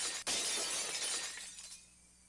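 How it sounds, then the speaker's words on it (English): Glass shatters in one sharp, loud crash, followed by a bright spray of tinkling shards that trails off and fades over about two seconds. "The unpleasant, piercing sound of shattered glass, the crunching noise as Rena treads across the broken shards"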